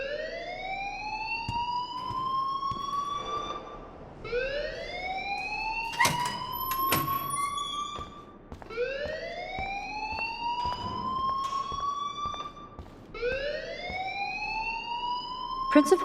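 A school fire alarm blares in the video game Life is Strange, its siren sweeping upward in four long repeated rising wails, loud and steady, with faint voices beneath.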